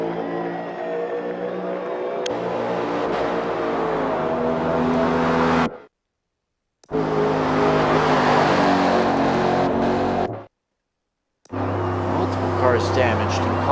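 Race car engines roar loudly and continuously at Homestead, several cars passing close by at high speed with steady whining revs, broken by two brief cuts to silence.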